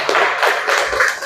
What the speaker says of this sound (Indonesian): Terima kasih ya, kita beri aplaus.